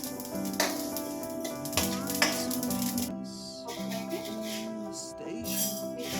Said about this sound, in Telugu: సేమ్ అదే విధంగా నువ్వులను కూడా ఫ్రై చేసుకోవాలి